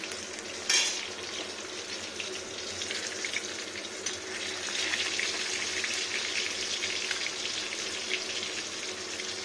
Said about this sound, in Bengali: মাছগুলো সব ভেজে নেব মুখটাও ভাজবো